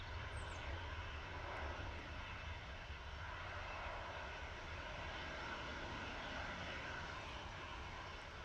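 A KLM Embraer E175 arriving from Amsterdam at Manchester Airport sends out a steady, even engine roar, continuous and fairly distant with no breaks.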